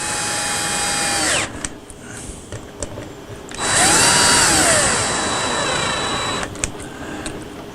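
A power screwdriver driving small screws into a Stratocaster guitar: two loud, close bursts of whirring motor with pitch dropping as each screw tightens, separated by a short pause with light handling clicks.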